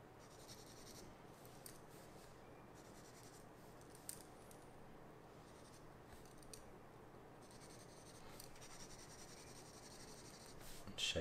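Pencil drawing and shading an eyebrow shape on paper, soft continuous scratchy strokes and rubbing, quiet and close, with a few sharper taps.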